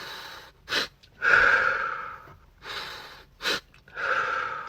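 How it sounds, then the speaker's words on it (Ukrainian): Slow, deep breaths for a stress-relief breathing exercise, each long audible inhale followed by a long exhale, close and alone, repeating in a steady cycle. "Повільно вдихаєш, дуже глибоко видихаєш."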